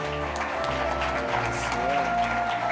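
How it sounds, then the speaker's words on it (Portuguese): A church congregation applauds during a celebration service, a steady wash of clapping under sustained organ or keyboard tones and faint voices. "E um aplauso a Jesus, né?"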